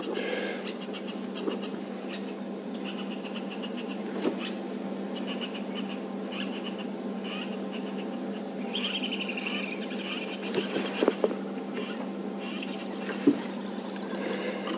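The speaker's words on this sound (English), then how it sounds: "A lot of birds sounding off here, giving alarm calls for a predator passing." Several birds call sharply and repeatedly from the surrounding trees, an agitated chorus of alarm chirps at a passing predator, over a constant low hum of outdoor background noise.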